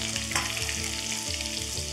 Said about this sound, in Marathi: थोडंसं आल्याचे उभे काप, थोडासा लसूण बारीक चिरलेला, हे छान आहे ना एकत्र फ्राय करूयात।